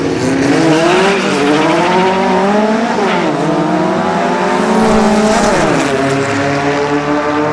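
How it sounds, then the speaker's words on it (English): Two cars in a close drag race at the 2006 Silver Dollar Showdown roar loudly down the strip, their engines rising in pitch through repeated gear changes in a continuous, near, powerful wail. "good close drag race here"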